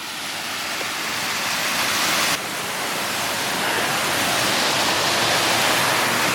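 River water flows through a barely opened gate in a mill dam, a loud, dense, steady rush of hissing water close by, with no talking.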